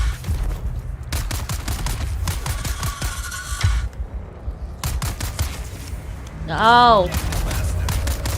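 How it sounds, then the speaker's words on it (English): Rapid automatic gunfire in the survival game Dune: Awakening, repeated bursts of sharp, close shots spread over several seconds with short gaps, plus a rising electronic whine near the end and a brief spoken word. "Stop shooting me."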